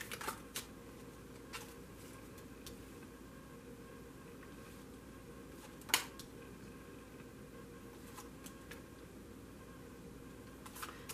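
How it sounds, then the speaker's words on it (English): A tarot card deck being shuffled briefly, with soft, faint riffling and a few sharper clicks and snaps at intervals, fairly quiet against low background hiss. "I have pre-shuffled this deck, so I'm only going to shuffle it for a moment."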